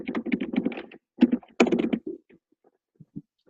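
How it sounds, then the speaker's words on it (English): Rapid bursts of typing on a computer keyboard, clustered clacking keystrokes in quick runs separated by short pauses, then a few isolated taps trailing off, close and crisp in a quiet room. "Easy on the keyboards, Tiger."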